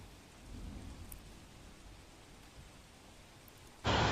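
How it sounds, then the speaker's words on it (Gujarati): Steady heavy rain in Surat, India hisses throughout, with a low rumble like distant thunder underneath, ending in a sudden loud burst of noise. "વરસ્યો ધોધમાર વરસાદ"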